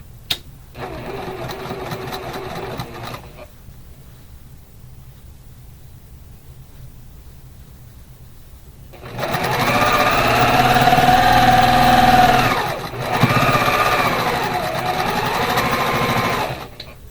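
A sewing machine stitches quilt sashing strips in two loud, even runs of motor whir and needle clatter, a short one at the start and a longer one near the end, with quiet room tone between and no talking.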